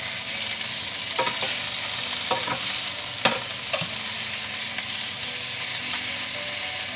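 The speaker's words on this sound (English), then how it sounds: "And let it sizzle for a couple of minutes." Chicken pieces, skin side turned, sizzle steadily in a frying pan, a continuous close hiss with occasional sharper pops and crackles and no talking.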